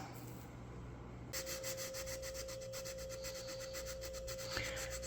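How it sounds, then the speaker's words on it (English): Wooden toe rails on a Model Shipways Muscongus Bay Lobster Smack model ship are sanded flush, giving a quiet, steady, close-up rasp of repeated short strokes with no talking. "what I'm doing now is I need to sand them flush"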